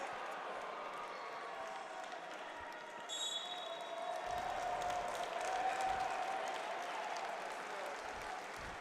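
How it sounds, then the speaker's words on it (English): A crowd at a wrestling match at the 2024 World Team Trials roars and applauds after a big takedown. Distant, hall-filling cheering and clapping swell in the middle and then settle, with a sharp whistle and sporadic thuds. "Crowd got loud for that one."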